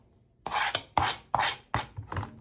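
A knife slicing through a sweet Taiwan pineapple, four or five crisp rasping cuts in a steady rhythm, each a short scraping stroke with a soft knock on the board, close and clear with no talk.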